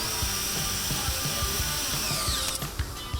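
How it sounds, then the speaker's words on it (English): Power tools whirring on a factory assembly line, a steady drill-like whine with repeated short mechanical bursts and ratcheting clicks, moderately distant under a constant machine hum. "now we get to use the power tools"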